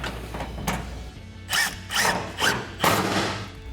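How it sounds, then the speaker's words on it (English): A 10mm socket tightens a bolt on an exhaust hanger of a 2015-2020 Ford F-150, a close series of four or five short ratcheting bursts separated by brief pauses, with faint handling thumps before them. "we'll take our 10mm socket to tighten that down"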